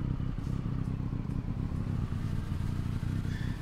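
A motorcycle in GTA RP idles and runs with a steady, loud, throbbing engine note and a rattly clatter throughout, with no talking.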